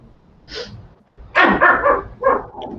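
A small dog barks close by, a few sharp yips followed by a quick run of four louder barks, with a quiet pause between them.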